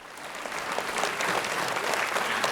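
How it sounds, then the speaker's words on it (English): An audience applauds after a talk on multiple sclerosis, dense clapping that swells slightly and holds steady across the room. "It's okay to clap."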